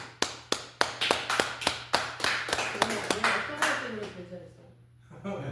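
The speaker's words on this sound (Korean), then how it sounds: "우리 박수 한번 쳐줘요" Congregation at a church revival gathering claps in sharp, spaced hits that grow denser into scattered applause, with a steady low hum underneath and speech coming in toward the end.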